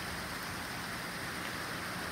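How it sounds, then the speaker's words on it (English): Hail pelting down steadily just after a thunderstorm, a dense continuous hiss of impacts like heavy rain on hard surfaces, even and unbroken throughout, with no voices. "Wow, it's really hailing."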